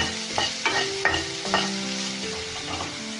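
Ginger and garlic frying in a pan while being cooked into a mixed vegetable cauliflower rice dish, giving a steady sizzle with several sharp stirring scrapes close by and no talking.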